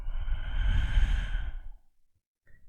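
A long, breathy exhalation during a yoga session, close and fairly loud, fading out after about a second and a half, then a short faint sound.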